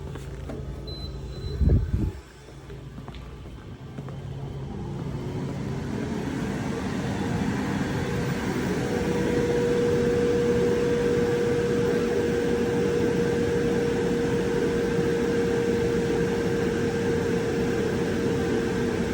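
A Glowforge laser cutter runs a cut with its vent fan going, a steady whooshing fan drone with a thin sustained tone, preceded by a brief clunk and button press at the start.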